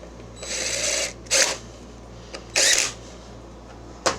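A powered driver whirs in short bursts, driving small tapping screws into the dipstick tube bracket on a riding mower engine, with three or four quick spins separated by pauses and a low steady hum beneath.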